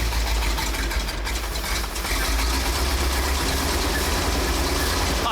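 Engine of a junkyard International semi-truck running at a steady loud idle, a continuous low rumble close by throughout.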